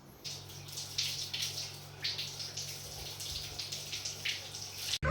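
Tap water runs steadily into a basin while henna is washed off the hands, a close, continuous splashing flow with small irregular surges and a low hum beneath, ending abruptly.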